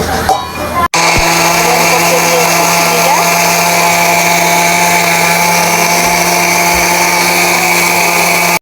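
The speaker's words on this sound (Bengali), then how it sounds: "ব্লেন্ডারে গুঁড়া করে নিচ্ছি।" After a brief pause, a kitchen blender starts and grinds sugar and cardamom into powder with a loud, continuous, high-pitched motor whine that holds steady to the end.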